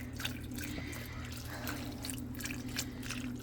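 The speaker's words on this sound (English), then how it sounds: "I'm using beef stock to cook them in. So you're just going to pour in about half the carton" Beef stock poured from a carton into a cooking pot, a steady splashing trickle of liquid running continuously over a low background hum, close and fairly quiet.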